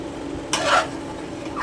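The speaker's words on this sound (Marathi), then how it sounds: "आपल्याला पूर्ण पुरण हलवून हलवून घेऊन शिजवायचं आहे" Puran lentil filling for puran poli is stirred in a pot over low sizzling heat, a single brief scraping swish of the spoon against a steady faint background hiss.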